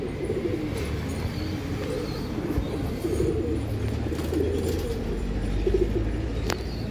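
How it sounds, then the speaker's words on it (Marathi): Low, rolling coos from a white pigeon repeat steadily over faint background noise, with a short sharp click near the end. "मित्रांनो, ही व्हाईट डोळ्यामध्ये व्हाईट कबूतर आहे."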